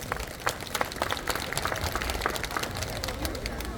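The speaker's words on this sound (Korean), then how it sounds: "박수 한번 크게 한번 부탁드리겠습니다" A crowd of residents applauds crime patrol volunteers at a neighborhood community festival, a steady dense wash of clapping that holds evenly for several seconds at moderate loudness.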